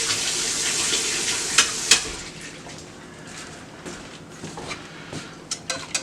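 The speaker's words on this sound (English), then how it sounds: "You just pour the mixture in." A dark chocolate ice cream mixture is poured into an ice cream machine, giving a soft, steady liquid pour with a few sharp clinks, near and fairly quiet.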